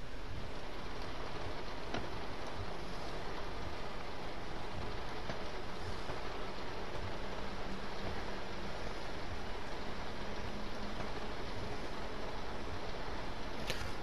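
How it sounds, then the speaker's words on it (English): Rain in the Train Sim World 2 railway simulator on a German high-speed line falls as a constant, even hiss of steady patter that runs unbroken and fairly faint throughout, with no talking. "So has the rain got better"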